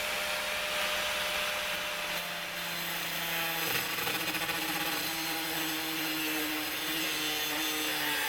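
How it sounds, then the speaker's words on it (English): Steel knife blade made from a car strut spring being cut through with a power tool, a steady loud grinding whine that holds throughout with shifting pitch, close and continuous, no voices. "I'm just gonna cut off probably around an inch off the back of it"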